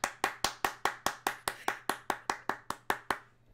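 A single person claps steadily, about fifteen sharp, evenly spaced hand claps close to the microphone, offered as applause at a virtual science talk. There is no crowd and no speech.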